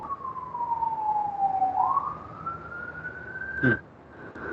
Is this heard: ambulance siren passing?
yes